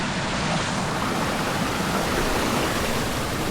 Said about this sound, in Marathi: वरती जो उतराई करत असताना ओढा लागलेला त्याचं पाणी